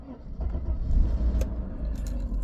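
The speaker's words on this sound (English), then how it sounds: "Start the car" A 1995-era Mercedes E300 W124 left sitting abandoned for nine years cranks and rumbles into life close by, a low steady engine drone with faint key jingles over it.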